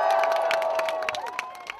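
Crowd of hundreds outside St James's Palace cheering at the proclamation of a new king, a dense, sustained roar of voices with high shouts and whistles rising over it, fairly close.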